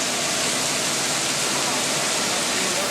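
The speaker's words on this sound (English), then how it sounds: "This sudden shower is really just a special effect." Dense, steady hiss of water sprayed as a staged rain effect on a theme-park studio backlot, like heavy rain pouring down continuously, loud and close, with no letup.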